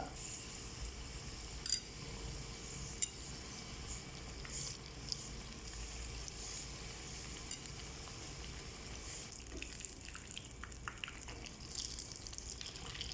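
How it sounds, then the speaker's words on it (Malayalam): Batter-dipped ripe banana pieces frying in hot oil for a snack, giving a steady, faint sizzle and crackle with a few brief pops and no talk. "ഇനി ഓരോ പീസ് എടുത്തിട്ട് മാവിൽ മുക്കിയിട്ട് തിളച്ച എണ്ണയിലിട്ട് ഇത് ഒഴി ഇടുക"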